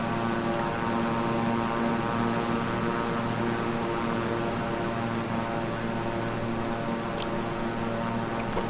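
A twin-engine Beechcraft King Air 350i turboprop in Microsoft Flight Simulator gives a steady, even propeller-and-engine drone throughout, constant in loudness, with no talking.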